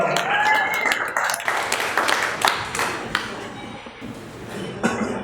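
Wedding guests clap for the groom at a banquet, scattered claps mixed with clinks and background chatter, close and uneven rather than a full ovation.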